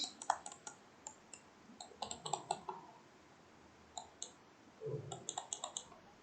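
A computer mouse clicking at a desk, sharp quiet clicks in short irregular bursts and pairs, close and clear with no talking.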